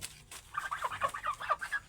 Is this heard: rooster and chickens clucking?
yes